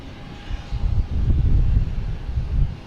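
A Delta airliner at Boston Logan Airport, its engines giving a loud, low, rumbling roar that swells and holds steady, with some wind buffeting the microphone.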